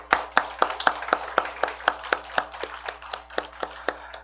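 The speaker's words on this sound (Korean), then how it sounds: "박수하겠습니다." A church congregation claps together in a steady, regular rhythm during a Sunday morning service, about four crisp claps per second, moderately close and fairly loud, with a low steady hum beneath and no talking.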